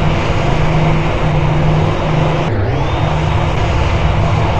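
A steady, loud Airbus A320 jet engine drones in Microsoft Flight Simulator, a constant roar with a low tonal hum that briefly dips and sweeps near the middle as one engine is shut down.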